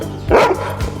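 A dog barking at squirrels: two sharp, close barks with a short gap, loud and alone.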